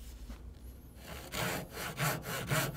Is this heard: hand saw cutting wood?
yes